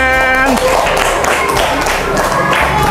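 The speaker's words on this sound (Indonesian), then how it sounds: "Tepuk tangan." Children clap together in a classroom game session with Islamic school students, a dense patter of small hands following a voice at the start, with chatter and other voices mixed in throughout.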